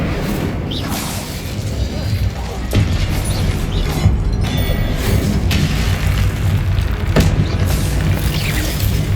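The Incendio fire spell is cast in the Hogwarts Legacy video game, a dense roaring burst with booming thuds and whooshes layered over continuous rumbling battle noise.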